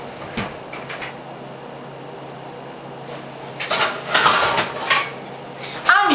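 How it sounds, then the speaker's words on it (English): Metal cookie sheets and pans clatter as they are taken out in a home kitchen, a few scattered clanks and scrapes after a quiet start, growing louder toward the end. "Then get your cookie sheets out."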